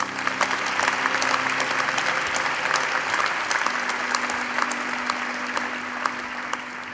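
A large crowd at an Imperial College engineering graduation ceremony applauds the graduates in a sustained, even round of clapping, with a faint steady hum running underneath throughout.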